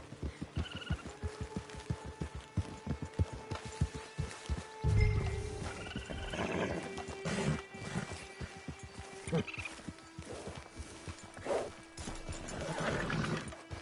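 A horse in the Western game Red Dead Online neighs at moderate volume over steady clip-clopping hooves and faint outdoor ambience, with no talk.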